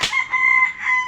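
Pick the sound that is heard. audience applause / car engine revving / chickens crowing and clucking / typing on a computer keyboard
chickens crowing and clucking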